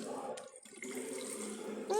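Water is poured or added into a cooking pan in a home kitchen, a short splashing pour over about two seconds with a brief clink near the end.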